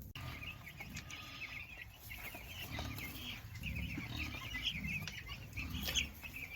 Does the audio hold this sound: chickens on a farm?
yes